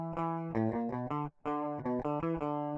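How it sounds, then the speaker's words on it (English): A clean, unprocessed DI electric guitar signal from a hard rock virtual instrument plays a short run of plucked notes and chords, dry and clear with a brief pause midway. "we're going to hear just the pure DI signal."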